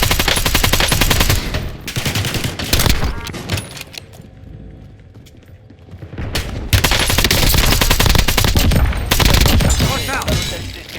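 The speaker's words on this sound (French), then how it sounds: "Je subis les tirs." Rapid bursts of automatic gunfire in a video game shooter, loud and dense, with a brief lull midway before heavy firing resumes and continues to the end.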